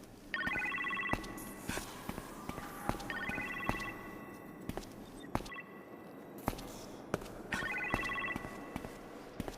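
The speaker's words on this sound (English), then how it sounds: "You appear to have a phone call in the kitchen" A phone rings in the kitchen in the Iron Man VR video game, three bursts of bright trilling bell tones spaced a few seconds apart, with thumping footsteps and movement sounds in between.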